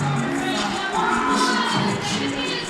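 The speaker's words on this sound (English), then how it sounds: "The crowd, as you can tell, is hyped for this matchup." A high school varsity wrestling crowd in a gym cheers steadily, a broad roar of many voices that holds at the same level throughout, with no single voice standing out.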